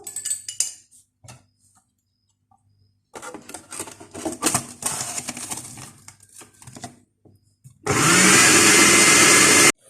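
An electric chopper mixes butter into a crushed base for a peach cake. Scattered handling clatter and knocks come first, then the motor roars loud and steady for the final couple of seconds.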